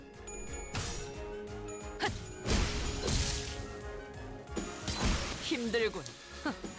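Enemies get smashed in the Limbus Company video game, a series of heavy crashing impacts and mechanical clanks that burst out at irregular intervals over a busy, layered game soundscape.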